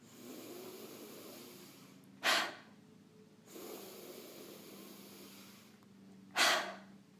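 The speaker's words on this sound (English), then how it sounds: "take a slow breath in and a quick breath out" Two quick, sharp exhalations about four seconds apart, each following a slower, softer inhale, close and fairly quiet in a calm children's breathing and relaxation exercise.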